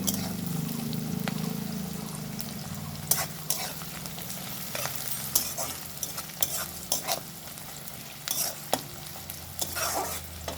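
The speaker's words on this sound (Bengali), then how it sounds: "পেঁয়াজটা একটু ভাজা হোক।" Steady frying sizzle of onions in a pan, with occasional stirring clicks and scrapes across the clip; no voices.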